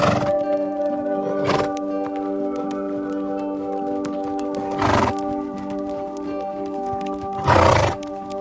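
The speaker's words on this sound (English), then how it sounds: "zebra," Zebra calling in three separate bursts of barking, whinny-like calls with pauses between them. A steady tonal hum runs underneath.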